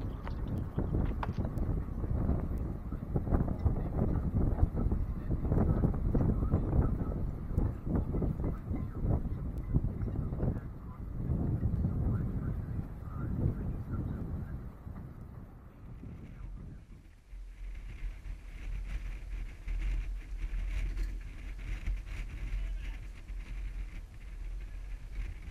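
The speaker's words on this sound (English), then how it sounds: "The winds build up a lot here in the last 10 minutes." Strong wind from Tropical Storm Isaias buffets a boat on its mooring, a loud gusting roar and rattle that shifts to a steadier, lower blow partway through.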